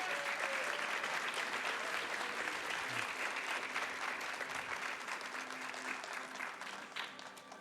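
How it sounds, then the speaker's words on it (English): Sustained applause from a crowd at a speedrunning charity marathon, steady clapping throughout that tapers slightly toward the end. "can we please get another round of applause for him?"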